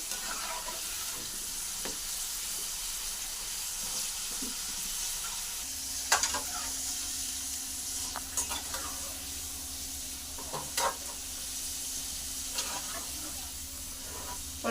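Indian gooseberries (amla) frying in oil for pickle, giving a soft continuous hiss and sizzle with occasional light utensil clinks and stirring scrapes throughout.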